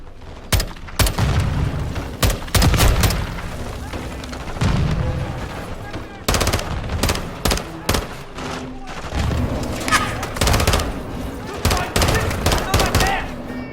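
Modern Warfare 2 battle gunfire: repeated loud bursts of automatic rifle fire and sharp shots with booming impacts throughout, irregular volleys under occasional voices.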